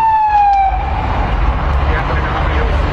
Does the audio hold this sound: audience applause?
no